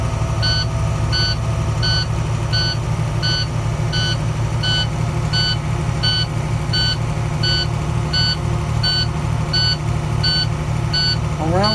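Old diesel bus engine runs at a raised, steady roar to build air pressure, with a regular pattern of electronic warning beeps repeating over it throughout.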